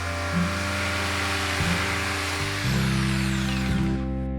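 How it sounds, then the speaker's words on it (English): A jigsaw cuts a birch plywood cabinet gable along a scribed line, a loud continuous motor whine with a steady buzzing blade that shifts pitch slightly as the cut progresses. "cutting to the line I marked with a jigsaw"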